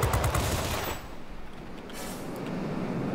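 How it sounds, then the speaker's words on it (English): In World of Warplanes, the gun of an F6U fires a loud, rapid burst for about a second, followed by a steady roaring hiss of flight noise. "Let's go ahead and put this gun to some use."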